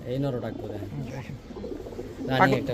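Pigeons coo close by in low, rolling phrases, overlapping with someone talking.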